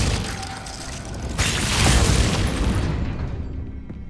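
A Glacius ice spell cast in Hogwarts Legacy, a loud burst of crackling, crunching impact that peaks around the middle and then fades, with dense layered noise and no talk.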